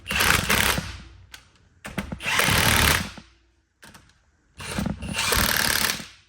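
A power tool drives bolts tight in a crisscross pattern on an off-road vehicle, three loud whirring bursts of a second or so each, separated by brief pauses and short clicks, close by with no talk.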